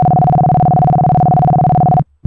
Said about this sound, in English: And then we'll make it a triangle wave instead.